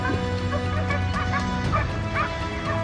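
A pack of hunting dogs on a wild boar chase barks and yips repeatedly at a middle distance, the excited calls overlapping over a dense, steady outdoor rumble.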